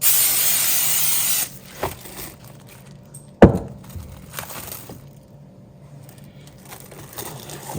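A short, close hiss of an aerosol cooking spray, used while making pumpkin rolls, at the start, followed by quiet clicks and a sharp knock against a surface.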